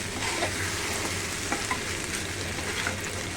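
A sauce with tomato ketchup, black pepper and green chilli being stirred in a pan, a soft steady sizzle with quiet scraping strokes close by, low in level and without talk.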